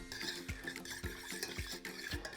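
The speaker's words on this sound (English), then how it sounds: "just give that a stir" A spoon stirring crumpet yeast mixture in a bowl, with rhythmic scraping strokes and soft clinks against the side, about one stroke every half second, close and quiet.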